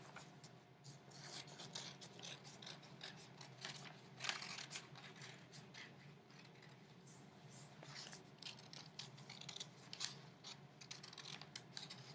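Scissors cutting a heart shape out of paper in a quiet room make a series of soft, close snips and crisp paper rustles at an uneven pace.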